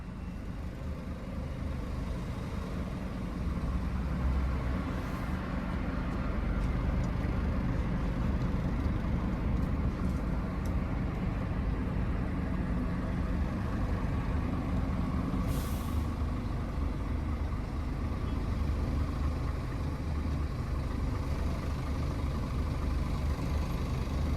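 A semi truck moves slowly through narrow streets with a low, steady engine rumble close by. A brief hiss of the air brakes cuts in once near the end.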